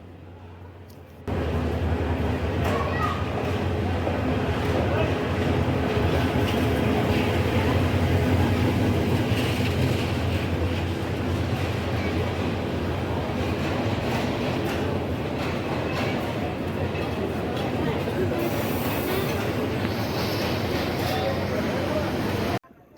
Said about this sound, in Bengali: অবশেষে আমাদের কিশোরগঞ্জ এক্সপ্রেস বিমানবন্দর রেল স্টেশন প্রবেশ করছে